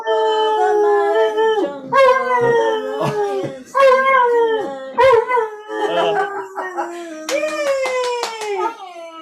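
A dog howls along with a person singing. Long, wavering howls rise and fall across the whole stretch and blend with the sung melody, loud and close.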